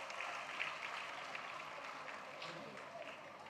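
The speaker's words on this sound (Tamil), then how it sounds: "பெருசா கைத்தட்டுங்க ஒரு வாட்டி." Audience at a DMK political meeting applauding, a steady dense wash of clapping held at a moderate distance and fairly faint throughout.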